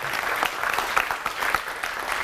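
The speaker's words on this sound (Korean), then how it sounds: "우리 정소담 아나운서한테 박수 한번 크게 한번 해주시죠" An audience at a lecture claps loudly for a female announcer, brisk, crowded clapping with individual sharp hand strikes standing out, continuing steadily throughout.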